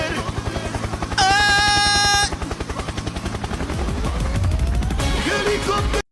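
Helicopter sound in the video game Diablo Immortal: a loud, steady rotor thump pulses throughout, overlaid by a bright tonal chime and rapid gunfire-like bursts from the game.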